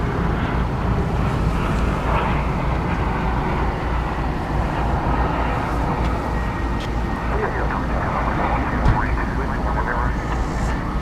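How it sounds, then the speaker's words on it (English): An American Eagle CRJ regional jet airliner at DFW Airport gives off a steady, broad engine roar that holds at an even level throughout, with wind noise and scattered faint sounds around it. "It's an American Eagle, CRJ."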